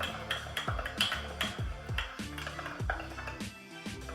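An egg and other ingredients get mixed in a cup for a mug cookie. A utensil clinks against the cup in quick, rhythmic strokes, bright and close, with no one talking.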